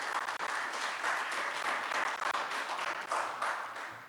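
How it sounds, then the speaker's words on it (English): A hall full of people at a business forum applauds steadily, dense clapping sustained throughout before tapering slightly at the end. "So let's give them a round of applause."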